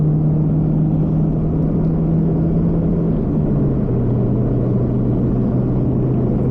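A Mercedes 190 engine drones steadily at full throttle on the Nürburgring Nordschleife, a loud, close in-car rumble with a sustained tone that shifts slightly lower partway through.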